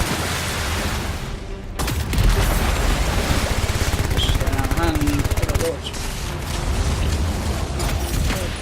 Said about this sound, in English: Everyone just keeps firing stuff.